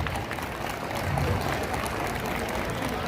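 Students at a public school farewell ceremony for 10th and 12th graders applaud in a steady, moderately quiet patter of many hands that holds evenly throughout, with no voices standing out.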